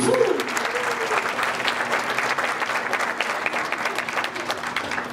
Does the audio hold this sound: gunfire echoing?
no